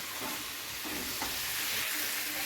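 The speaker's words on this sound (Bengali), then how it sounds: "আলু ফুলকপিটাকে দিয়ে মশলার সঙ্গে খুব ভালোভাবে মিশিয়ে নেব।" Potato and cauliflower sizzle as they are stirred and fried with spices in a pan, a steady close crackling hiss with soft scraping strokes throughout.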